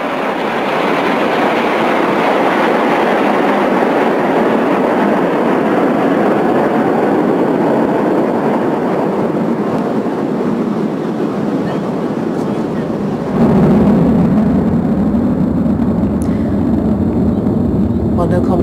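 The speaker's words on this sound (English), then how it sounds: "No commentary at the moment, but the distinctive roar of the engines." Red Arrows jet aircraft roar over London during a VE Day anniversary flypast, a loud, sustained rushing engine noise that swells near the end, with voices faintly present.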